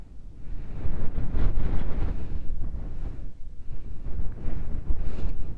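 Wind buffets the microphone outdoors on an off-road riding spot, a loud continuous rumbling roar that gusts and swells throughout.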